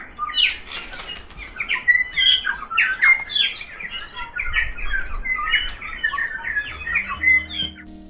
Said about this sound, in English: take a listen to these bellbirds